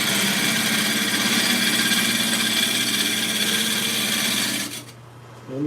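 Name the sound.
wood lathe turning an oak bowl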